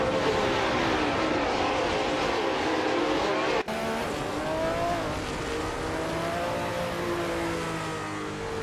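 A Renault Formula 3.5 race car in a racing video game screams through high revs alone, engine pitch rising and falling with gear changes and a brief tire skid, loud and continuous.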